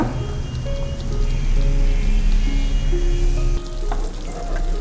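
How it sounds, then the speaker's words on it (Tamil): Chow chow (chayote) masala gravy bubbles and sizzles steadily in a pan, a close, continuous crackling simmer with a low hum underneath. "இது கொஞ்ச நேரம் கொதிக்கட்டுங்க"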